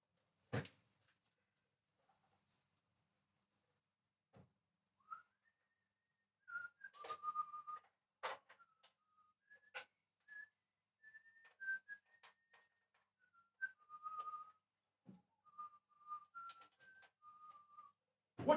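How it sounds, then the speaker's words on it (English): A person whistling a wandering tune in a luthier's guitar workshop, sparse melodic phrases fairly close but quiet, broken by sharp knocks and clatter of gear being handled. "What tune am I whistling now"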